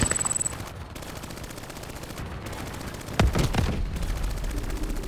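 Video game gunfire: a burst of rapid automatic shots at the start, a heavy blast partway through and more scattered shots over a constant background din.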